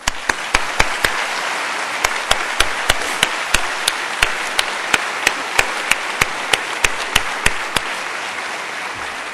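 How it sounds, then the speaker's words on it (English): A graduation audience claps in a sparse, loose rhythm, with sharp separate hand claps standing out over a steady wash of room applause. "Let us please give them a round of applause"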